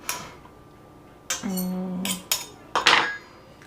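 Vegan butter being cut into flour in a bowl with a knife: a few sharp metallic clinks and scrapes against the bowl, separated by short pauses, close and fairly quiet.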